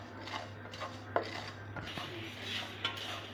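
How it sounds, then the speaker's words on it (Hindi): A spoon scrapes and clinks against a pan while stirring spices for mango pickle, with soft irregular metallic taps and rubbing strokes at close range over a faint steady hum. "हमने इसमें इस तरह से चम्मच चलाते रहना है"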